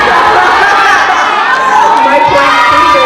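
A school audience at a teacher talent show shouts and cheers loudly and continuously, children's voices blending into a bright roar of crowd noise.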